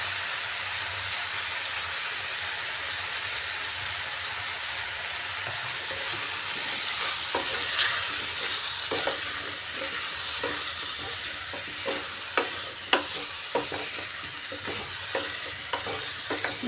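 Taro stems and fish cook with spices and salt in a pan, a loud continuous sizzle that picks up sharp scraping clicks of stirring in the second half, with no talking.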